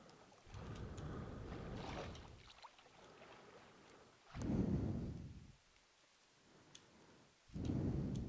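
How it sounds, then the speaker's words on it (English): Rain falling with bursts of rumbling thunder in the Minecraft video game, version 1.17.1, a steady wash of rain broken by two loud rolling thunder swells, with no talking. "it's back to just raining"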